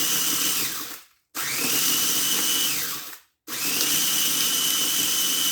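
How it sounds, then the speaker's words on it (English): A small electric food chopper grinding crackers whirs loudly in two long bursts with a brief silent pause between, its motor pitch shifting as it grinds. "I break them up in half and I put them in this little chopper"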